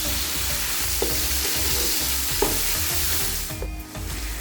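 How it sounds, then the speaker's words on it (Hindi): Tomatoes and green chillies frying with browned garlic and onion in a pan for aloo baingan, giving a continuous loud sizzle with occasional soft stirring scrapes. "अभी हम शामिल कर लेंगे टमाटर और हरी मिर्ची। अभी अच्छे से इसकी भुनाई कर लेते हैं।"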